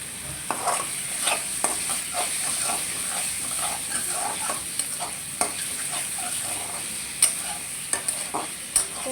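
Softened eggplant frying in a pan gives a continuous sizzle and hiss, with irregular clatters and scrapes of stirring throughout and no talking.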